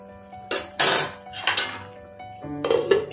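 A metal lid set over a cooking pot of potol posto, sharp clanks and scraping clinks in several close bursts over a faint background hum.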